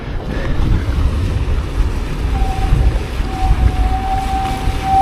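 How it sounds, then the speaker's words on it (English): Yacht passing on the sea off Portishead, with a steady wash of water and wind rumble against the microphone and a faint engine drone rising partway through, no voices. "So here comes our other yacht."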